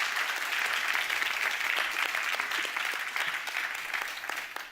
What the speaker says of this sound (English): Give another round of applause to Fernando